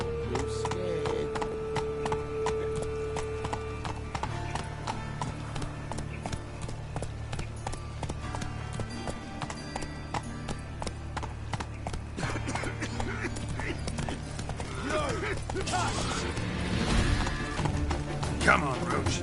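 Horse Roach gallops in The Witcher 3, hooves clip-clopping in a steady rhythm over layered game music and voices, with an occasional whinny.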